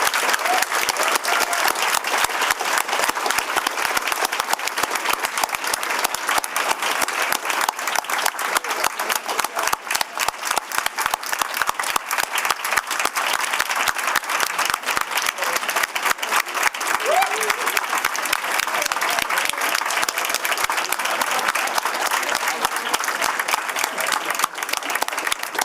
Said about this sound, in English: Can I get another round of applause for our speakers?